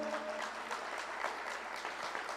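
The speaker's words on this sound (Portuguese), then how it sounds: "Você pode dar uma forte salva de palmas ao Senhor." A church congregation claps in worship, an even, sustained wash of many hands heard at a moderate distance, with no talking over it.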